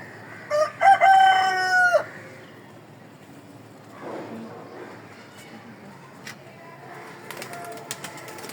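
A rooster crowing on a rooftop garden, one loud drawn-out crow early on followed by quieter clucks and rustling, with faint background noise afterward.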